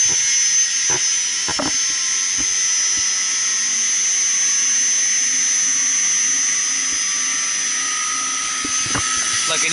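A chiller compressor runs steadily after startup, giving a loud, constant high-pitched mechanical whine and drone, with a few sharp clicks and knocks early on.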